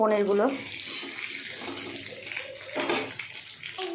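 Water running from a tap into a cooking pot for paneer biryani, a gurgling, splashing stream heard close, with a voice talking over it at moments.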